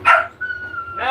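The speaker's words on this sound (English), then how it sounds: "That makes you a bad dog." A pet dog gives a short, loud bark right at the start, then a faint high whine, with another bark beginning at the very end.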